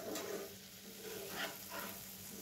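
A sweet paneer mixture fries steadily in a pan, giving a soft continuous sizzle with occasional stirring scrapes, close and fairly quiet with no voices.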